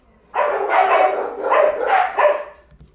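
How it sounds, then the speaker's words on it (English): Several dogs bark indoors in a quick, loud burst of overlapping woofs lasting a few seconds, close by and with no voices over them. "why don't y'all just keep barking?"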